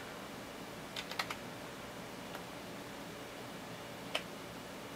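A computer keyboard being typed on while Windows 7 is set up, a few faint, separate key clicks standing out against a steady background hiss.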